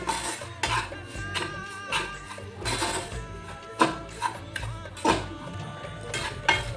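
Semolina is stirred and roasted in a pan, with repeated scraping and clinking of a utensil against metal in an uneven rhythm, close and fairly distinct.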